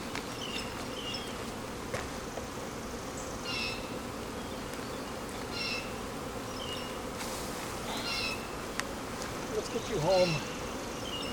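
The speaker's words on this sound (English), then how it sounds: "Alright, bees." Honey bees buzzing at a hive during spring preparation with Flow frames, a dense continuous hum of many wings close by, with brief sharper buzzes as individual bees pass near; a person speaks quietly over it.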